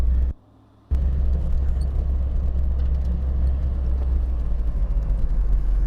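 A Foxbody Mustang on coilovers revs hard while its tires fail to spin, giving a loud, steady low engine rumble close by. The rumble runs unbroken after a brief dropout at the start.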